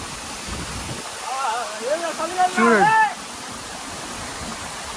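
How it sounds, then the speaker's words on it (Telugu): Katiki waterfall in Araku pours down in a constant, full rush of water, while excited voices speak loudly over it midway. "చూడండి వాటర్ ఫాల్ చూడండి"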